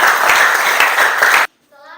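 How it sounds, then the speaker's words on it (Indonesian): Classroom applause for a student group: dense, loud clapping from a room of students for about a second and a half, then an abrupt stop into near silence before a voice begins. "tepuk tangan untuk kelompok 1"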